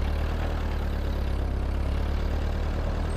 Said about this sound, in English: I'll disengage the PTO, put my tractor in gear, and that will let me back up to where I want to start brush hogging